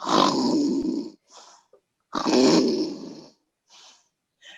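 A voice imitates snoring: two long, rasping snore-like breaths, each followed by softer wheezy exhalations, close and clear.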